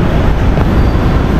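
Steady, loud rumble of a Manila MRT metro train in motion, a dense continuous low roar with rail noise filling the whole stretch and no voices.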